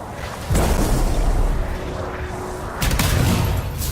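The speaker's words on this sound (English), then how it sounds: "It'll be a contained explosion." Canisters exploding in the video game Anthem, two heavy booming blasts a couple of seconds apart, loud and close with rumbling tails.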